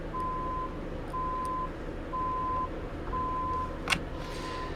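A workman's truck backing up outside sounds four evenly spaced reversing beeps, moderately distant over low traffic rumble, followed by a brief sharp knock.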